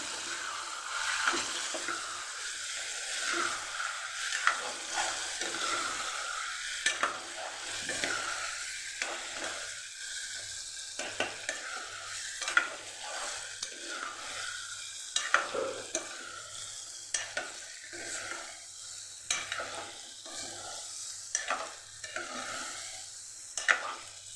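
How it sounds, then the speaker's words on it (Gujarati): Tomatoes and leftover spice paste stirred and sautéed in oil in a pan for a Kathiyawadi green pigeon pea and eggplant curry, a continuous sizzle with repeated scraping strokes of a spoon, close and steady; no talking. "હવે આ બધું આપણે સાતડી લેવાનું છે"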